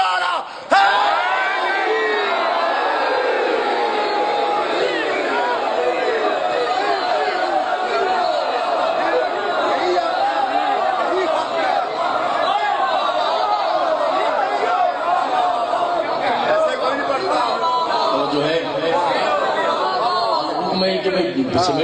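A large crowd at a religious majlis gathering chants a slogan in unison, a loud sustained roar of many voices holding steady for the whole stretch.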